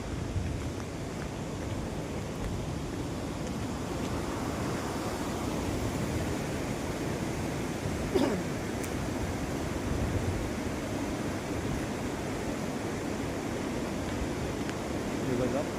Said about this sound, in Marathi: हे बघा, पाणी फिल्टर होते इथून पूर्ण.